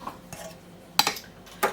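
A metal spoon scraping and clinking against a pan while stirring gravy: a few sharp, separated metallic taps and scrapes, close and fairly loud, with no talking.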